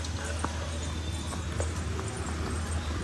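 Four horses walk along a narrow road, their hooves making a steady, uneven clip-clop close by over a constant low rumble of background noise.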